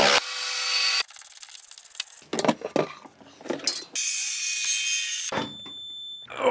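Hand ratchet loosening the body mount screws on a Land Rover Discovery 4 SDV6, bursts of loud close clicking alternating with quieter clunks and handling noises.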